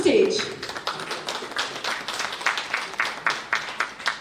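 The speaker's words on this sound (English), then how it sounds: "with a great round of applause, please welcome Mr. Noel Gama on the stage" An audience applauds to welcome a speaker onto the stage at a business seminar. After a brief voice at the start, the applause settles into an even, rhythmic clapping that holds steady throughout.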